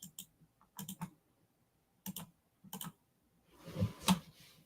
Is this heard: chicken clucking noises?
no